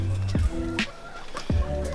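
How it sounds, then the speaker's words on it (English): Backyard chickens cluck and squawk close by in a few short bursts, with brief gaps between calls. "Hello, chickens."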